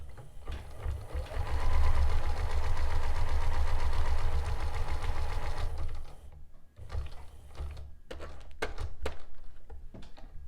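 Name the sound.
sewing machine stitching flat lace to fabric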